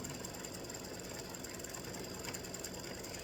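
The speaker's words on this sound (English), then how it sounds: "So now it's just creating a little satin stitch around the top of the acorn" An embroidery machine sews a satin stitch around the top of a freestanding-lace acorn earring in brown thread, making a quiet, steady mechanical whir with rapid needle ticking and no pauses.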